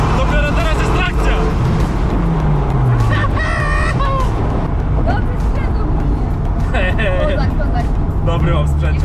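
A Dodge Viper accelerates hard, its engine roaring loudly up through the revs from inside the car as the tires gain grip, with excited passengers talking over the steady, heavy drone.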